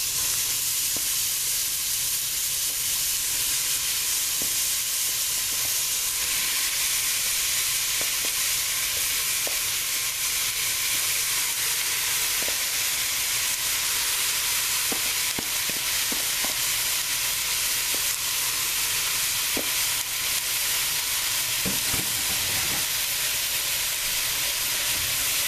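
Ground beef and sweet Italian sausage fry in a pot for chili, giving a steady, loud sizzle and hiss throughout with faint scraping stirs now and then.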